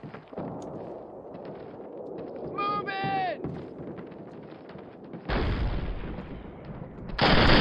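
Call of Duty 1 battle noise: rumbling explosions and gunfire bursts, a whistling tone sweeping down, then two abrupt loud blasts near the end, with someone talking over parts of it.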